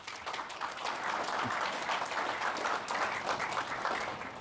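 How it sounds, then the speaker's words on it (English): A crowd applauds volunteers at a community open house, a sustained wash of clapping from many hands that holds steady and fairly loud from start to finish with no talking over it. "let's give them a big round of applause."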